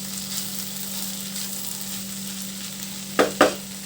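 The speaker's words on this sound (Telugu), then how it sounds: "ఇలా ఫ్రై అవుతుంది." Ivy gourd curry with grated coconut fries in a pan over low heat, giving a steady close sizzle with a continuous hum underneath and two quick stirring scrapes near the end.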